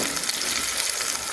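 Onions frying in a pan give a steady, close, bright sizzle that holds evenly through a brief moment with no voices.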